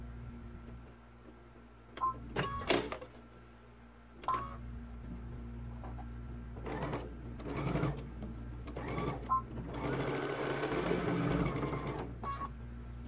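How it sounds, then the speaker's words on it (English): A sewing machine runs a straight stitch along the edge of ribbon for a pacifier clip, with a steady close mechanical whirr in several short runs broken by clicks and pauses. "Now we're going to bring it to the sewing machine."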